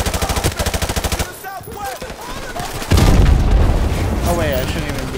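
Gunfire in Modern Warfare Remastered: a rapid burst of automatic fire opens, then shouted voices and chatter take over, and a heavy, booming volley of shots follows and continues loud to the end.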